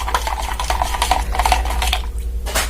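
A shampoo and baking soda cleaning solution is stirred briskly in a container, with rapid repetitive scraping and sloshing strokes close up, loud and continuous with a brief pause near the end.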